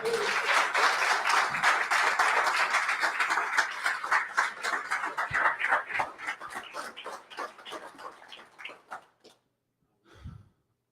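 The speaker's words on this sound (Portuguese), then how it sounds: "Dê um aplauso a Jesus." A church congregation applauds loudly and steadily for several seconds, the clapping thinning out and fading before a brief final burst of noise.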